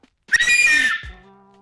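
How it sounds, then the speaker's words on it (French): A single loud whistle, likely a shrill mouth whistle, rises sharply and holds for about half a second near the microphone before cutting off, followed by a fading tonal hum. "Je vais siffler."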